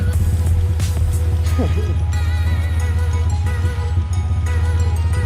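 A Mitsubishi Evo 8 engine idles with an open downpipe and no exhaust, giving a steady loud low rumble throughout with faint talk in the background.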